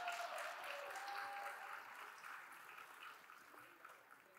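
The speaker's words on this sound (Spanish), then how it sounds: "¡Fuerte los aplausos también para ella!" Applause from an audience at a Spanish-language panel event, greeting a guest who coordinated São Paulo's Transciudadana program. Steady, fairly quiet clapping fills the whole stretch without a pause and fades a little toward the end.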